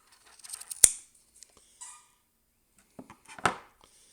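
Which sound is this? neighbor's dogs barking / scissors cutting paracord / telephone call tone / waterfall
scissors cutting paracord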